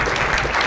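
A brief burst of steady audience clapping fills a hall after a mental maths demonstration at a magic show.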